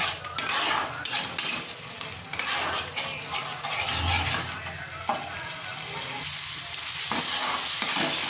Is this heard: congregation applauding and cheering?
no